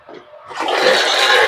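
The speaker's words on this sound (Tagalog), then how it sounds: "Ang lakas ng tubig, oh." Strong flow of water from a hose line at a pig pen, starting quietly with a faint trickle then surging into a loud, steady rushing gush close by.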